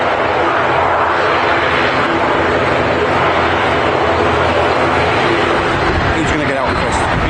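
An Airbus A330-200 airliner at Manchester Airport produces a loud, continuous jet engine roar close by, with speech mixed in over the noise.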